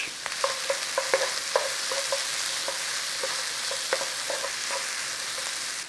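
Garlic and mushrooms frying in a pan for a creamy chicken cobbler, with a steady close sizzle broken by scattered pops and spits, no voices.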